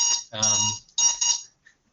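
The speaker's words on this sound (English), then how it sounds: "That was my alarm saying my time's up." An alarm clock going off with a bright, shrill electronic beeping in short repeated bursts, loud and close, then cutting off abruptly into silence.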